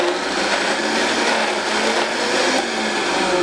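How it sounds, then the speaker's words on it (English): An electric blender whirls green goddess dressing at full speed, a loud, steady whirring that holds evenly for a few seconds with no voices. "now we're just gonna whirl it up. Blend it on up."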